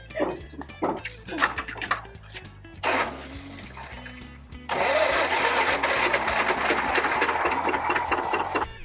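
An old Porsche engine cranks in uneven, stuttering bursts and struggles to catch before it settles into a loud, rough idle, close by, with people talking faintly.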